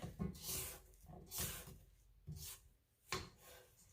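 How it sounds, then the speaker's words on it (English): Spatula scraping the sides of a mixing bowl of white cake batter, a few soft rubbing strokes in an uneven rhythm, close but quiet, with no talking. "So I'm going to scrape down the sides one more time."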